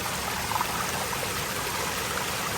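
A river and waterfall at Paraiso de June Quijote make a steady, broad rushing of flowing water. The sound is continuous and fairly loud throughout, with no talking over it.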